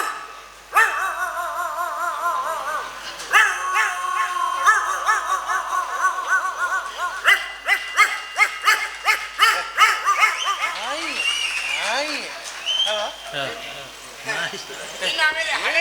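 A Yakshagana performer on stage imitates a dog with his voice, giving a series of sharp barks, yips and whimpers in irregular bursts, loud and close, with bright tonal cries between them.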